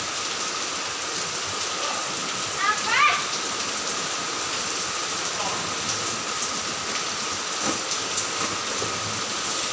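Heavy rain pouring steadily in Cinere, a constant hiss of falling water with a brief faint sound near the middle.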